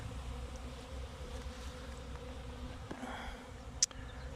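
Faint bee buzzing drifts from grass through steady low outdoor background noise, with one brief sharper buzz passing close near the end.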